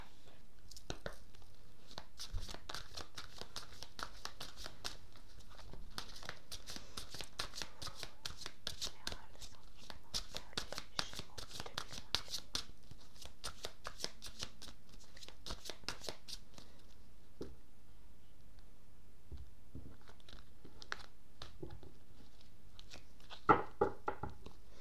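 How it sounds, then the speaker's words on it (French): A deck of oracle cards is shuffled by hand for a heart chakra card reading, with rapid, dense riffling flutters for about sixteen seconds, then sparser soft taps and card handling, close and fairly quiet. "je vais commencer par vous tirer 2 cartes de l'oracle du chakra du cœur pour avoir les énergies générales"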